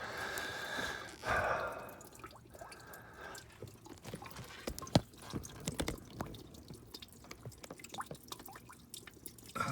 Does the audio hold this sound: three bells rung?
no